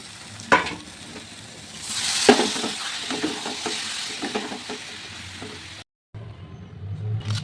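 Fried pieces go into a sizzling pan with spices and are stirred, producing a steady frying hiss broken by scraping clatters of a utensil against the pan, a brief gap, then renewed sizzle.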